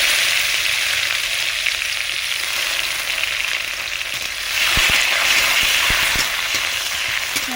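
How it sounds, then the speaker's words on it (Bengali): Chopped onions frying in oil in a pan for a Bengali hilsa fish curry, a steady broadband sizzle throughout with a few sharp stirring knocks near the end, close and loud with no talk. "একটু লাল লাল করে ভেজে নেব।"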